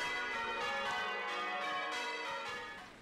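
Church bells ring out from a life-size portable belfry in a local park during the Frome Festival, a loud, continuous wash of overlapping tones that thins out toward the end.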